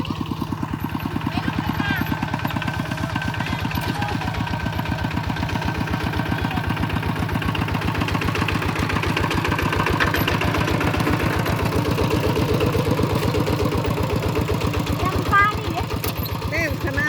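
A tractor engine chugs steadily at close range with a constant rhythmic clatter throughout, its pitch nearly unchanged, while a voice talks over it.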